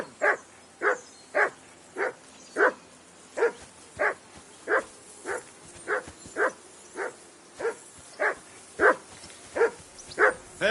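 A hound in Kingdom Come: Deliverance 2 barks steadily, about seventeen sharp, evenly spaced woofs over roughly ten seconds, close and loud, with no one talking over it.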